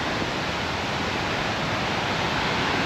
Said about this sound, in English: Quite a boisterous Paradise River